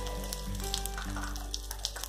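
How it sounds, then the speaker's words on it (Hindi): Cumin seeds and a pinch of asafoetida sizzle in a spoonful of hot oil, a steady, close frying hiss with a few soft pops and scrapes scattered throughout. "यहाँ पे तेल अच्छे से गर्म हो गया है, अब इसमें हम 1 छोटा चम्मच जीरा डालेंगे। एक पिंच हींग डालेंगे।"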